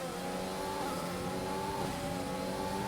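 F1 cars in a racing video game on the Canada circuit, one an AlphaTauri, hold a steady high engine whine that shifts pitch slightly as they run close together. Constant, fairly loud.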